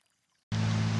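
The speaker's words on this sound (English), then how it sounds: "It really is practically a creek at this point." Water from a driveway culvert job runs down a driveway like a creek, a steady broadband rush with a low hum underneath. It starts abruptly midway and carries on loud and close.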